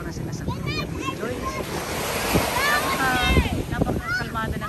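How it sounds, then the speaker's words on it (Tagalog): Calm sea waves wash gently at Aroma Beach, a steady soft surf mixed with wind noise on the microphone, while people talk and call out nearby throughout. "Napakalmada ng dagat."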